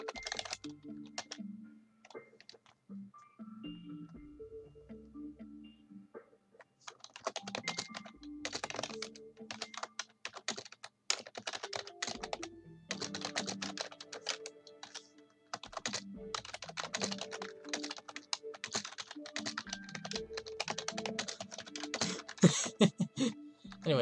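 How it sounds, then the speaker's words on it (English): Bursts of computer keyboard typing during a Minecraft building session, dense irregular clacking keystrokes close up, with a few quiet pauses and soft low thumps between runs and no talking. "The most interesting is the typing"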